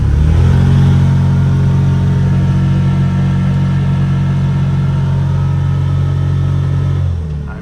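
A Can-Am Defender Limited side-by-side climbs a hill at full throttle, its engine holding a loud, steady mid-pitched drone close by for several seconds before easing off at the end.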